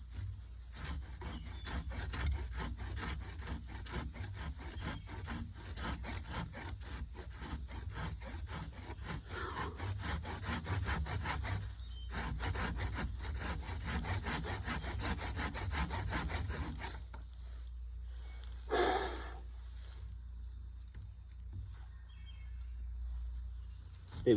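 A hand saw cuts notches into a standing tree for a wilderness bushcraft shelter, with steady rapid back-and-forth rasping strokes, close and continuous, then stopping as crickets or insects keep up a constant high chirr.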